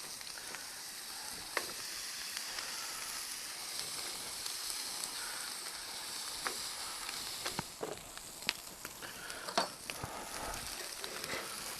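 Half a dozen bacon rashers sizzle steadily in a pan at a backyard cook-off, a continuous close hiss dotted with small pops and crackles.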